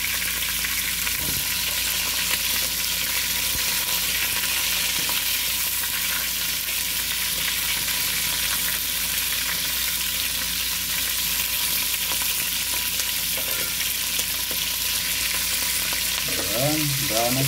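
Lamb pieces browning in a frying pan: a dense, steady sizzle and crackle of hot oil throughout, close, with a few scrapes of stirring near the end.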